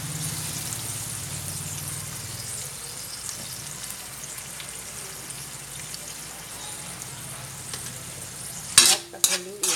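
Tomato sauce frying in a pan hisses steadily while a spoon stirs through it, a continuous close sizzle ending in a few louder scraping clatters against the pan.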